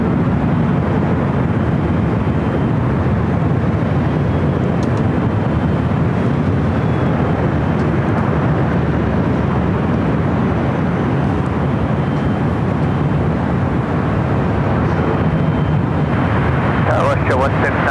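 An airliner at Los Angeles International Airport rolls for takeoff, a loud, steady broadband engine roar filling the whole stretch with no pause.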